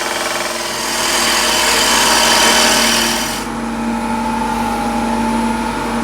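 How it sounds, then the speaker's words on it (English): A wood lathe turns a wooden bowl while a spindle gouge cuts it: a steady, loud motor whir with a rough, hissing cutting rasp that drops away after about three and a half seconds, leaving the motor's hum. "Back with the spindle gouge."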